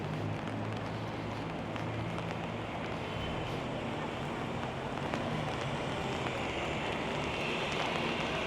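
Steady rain falls on a Vancouver street, a dense, continuous hiss of drops on pavement and surfaces that holds evenly throughout at a moderate level, with no clear voices.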